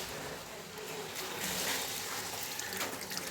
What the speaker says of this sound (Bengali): এইবার খুব সাবধানে আমি ধুয়ে নেব এই প্যাকেটটা